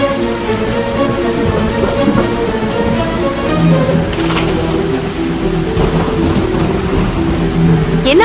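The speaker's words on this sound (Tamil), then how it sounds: "மழை பெய்யுது இல்ல, காத்துல ஏதாவது அடிச்சிருக்கும்." Heavy rain pours steadily and loudly with rolling thunder rumbling underneath, a dense continuous storm with no voices.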